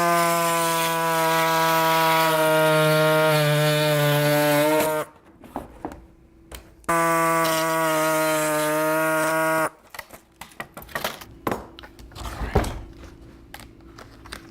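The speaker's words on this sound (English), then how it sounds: "I know just the tool. Reciprocating air saw." A pneumatic reciprocating air saw cuts vacuum-formed plastic in two loud, steady whining bursts separated by a short pause, followed by quieter clatter and handling noises.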